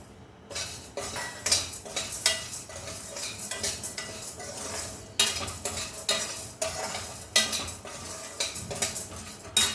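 Chana dal, urad dal and coriander seeds dry-roast in a pan for gongura red chilli powder, with a spoon scraping and clinking against the metal in repeated close strokes, with no talking.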